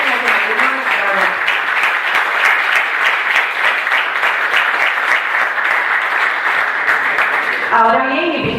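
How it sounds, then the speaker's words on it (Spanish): A crowd at a Costa Rican political gathering breaks into sustained, dense applause lasting several seconds, with a voice speaking at the start and again as the clapping fades. "Pues sin duda un aplauso de agradecimiento por la defensa de la soberanía costarricense"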